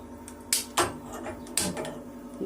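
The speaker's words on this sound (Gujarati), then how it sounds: "તો પહેલાં તો છે ને ગેસ ચાલુ કરવો પડશે." A kitchen gas stove is switched on with a few sharp clicks and knocks of the knob and igniter, close and moderately loud against a low background hum.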